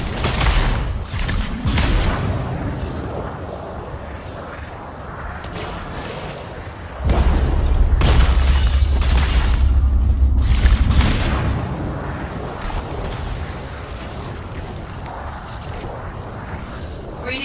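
A deep, heavy explosion rumbles in the Anthem video game amid whooshes and mechanical clatter. Character voices talk throughout, and a louder rumbling surge comes through midway.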